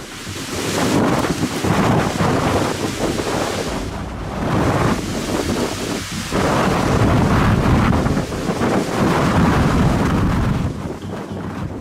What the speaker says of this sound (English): Wind gusts and heavy rain pounded Isla Mujeres